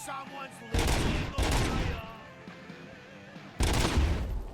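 Semi-automatic gunfire in the RoboCop Rogue City video game: two loud bursts of shots close together early on, a quieter stretch, then another loud burst near the end.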